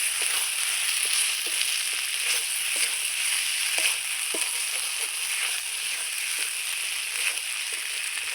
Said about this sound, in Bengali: এইবার আমি শলা কচু আর আলুটা এর মধ্যে দিয়ে একটু ভেজে নেব